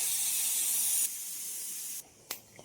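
A strong, steady steam hiss from a pressure cooker venting while cooking rice, which drops in level partway through, then cuts off, followed by a few faint clicks.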